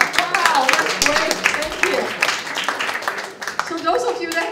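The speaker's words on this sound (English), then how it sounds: "Give yourself a big round of applause" Audience clapping at a community panel on truck safety, scattered claps blending into applause beneath a speaker's loud voice that dominates throughout.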